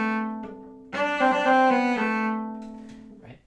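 A cello phrase from Popper's study No. 6, with grace notes played as two quick thirty-second notes before the main tones, rich sustained bowed notes heard alone and close.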